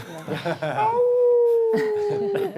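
An actor imitates a puppy howling with a single long, sliding, slightly falling wail, framed by lively studio talk just before and after it.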